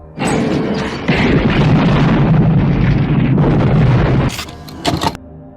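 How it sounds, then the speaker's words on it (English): A house explodes in a film scene from Child's Play (1988): a loud, sustained roaring blast with rumbling debris, followed by a few sharp cracking impacts as it dies away. "fires his gun, causing an explosion that destroys the house"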